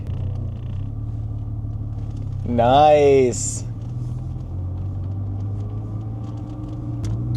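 A Porsche Cayman engine idles and rumbles low and steady while being driven with a manual gearbox in a driveway, with people talking briefly over it midway.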